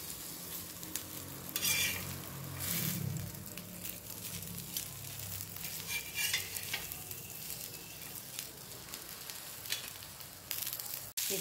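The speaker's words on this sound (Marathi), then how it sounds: "छान असा चुरचुर आवाज यायला लागलेला आहे" Pieces of surmai fish frying in a pan give a steady, close crackling sizzle that carries on evenly, with occasional louder spits and stirring or turning noises.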